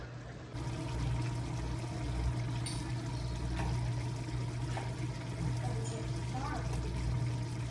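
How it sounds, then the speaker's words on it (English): Milk is poured into mashed potatoes in a home kitchen, a soft steady trickling stream lasting several seconds, faint and close, with light clinks in between. "I need to get some butter, and I'm gonna also add some milk in here and get that all mashed up."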